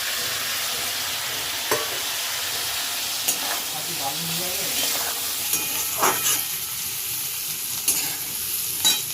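Potatoes sizzle steadily in hot oil in a home-kitchen pan for a Bengali fish jhal, with intermittent scraping and clacking stirs breaking through the constant close frying hiss.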